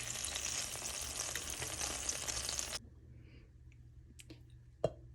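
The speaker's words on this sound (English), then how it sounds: "We're just going to turn them all over and we're going to cook them for another 4 minutes." Salisbury steaks sizzling in a pan after being flipped, a loud steady fry that cuts off abruptly, followed by a few faint clicks and one sharp knock.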